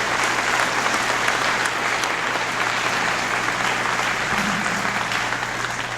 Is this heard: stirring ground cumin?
no